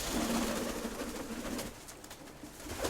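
Pigeon cooing in a home dovecote, a low soft coo repeating at a moderate level through the first half, then quieter with faint rustling.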